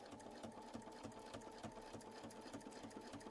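A sewing machine runs steadily while stitching a quilt seam through the block and quilt sandwich, its fast mechanical chatter continuous and close throughout.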